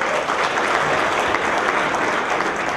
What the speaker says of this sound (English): Thank you, Joe.